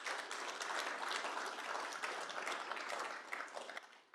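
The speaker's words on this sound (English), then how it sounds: "So everybody give yourselves a big round of applause for how you contribute to the state of Kansas." A large audience at a Kansas State University address applauds in a broad, steady roar of many hands, fairly distant and continuous.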